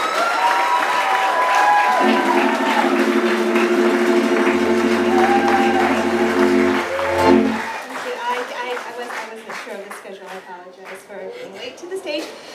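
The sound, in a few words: audience applause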